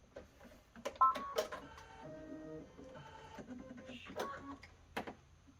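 A sewing machine's automatic threader whirs and clicks mechanically after its button is pressed, a faint, close run of short motor buzzes and ticks, with a voice talking briefly.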